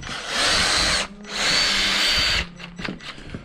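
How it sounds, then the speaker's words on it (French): A cordless drill whirs loudly at full speed close by in two bursts of about a second each, bites into material, then slows into short stuttering pulses; no one speaks. "On va aller percer des trous."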